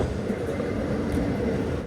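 A train rumbles steadily nearby at Cremona railway station in Italy, a continuous low roar of rolling carriages that cuts off abruptly at the end.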